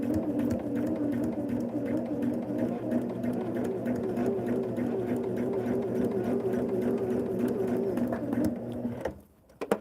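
Close, steady hum of a sewing machine stitching along a line on a sweatshirt, running continuously for nearly ten seconds before stopping abruptly, with no talking.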